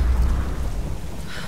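A deep rumble of thunder rolls under steady rain in a stormy outdoor scene of the game Tomb Raider, heavy and loud at first, then easing off over a short stretch.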